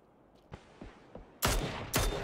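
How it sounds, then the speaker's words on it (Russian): Gunfire in PUBG: three faint distant single shots spaced roughly half a second apart, then two much louder, closer cracks with ringing tails, no talk. "Весь сервер по мне стреляет."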